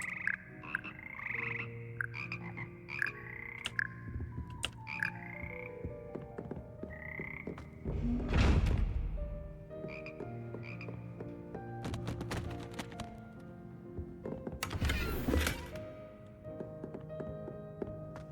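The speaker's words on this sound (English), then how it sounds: "Look, froggies!" Frogs croak repeatedly in the video game Hogwarts Legacy, a chorus of rhythmic calls at moderate level, with two louder bursts of ambient noise partway through and no talking.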